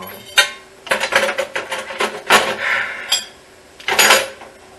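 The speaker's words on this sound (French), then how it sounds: "comme mon évier est plein de vaisselle, bah, on va la faire" Dishes being washed in a full kitchen sink: loud, close clatters and scrapes of plates and cutlery in irregular bursts, with no one talking.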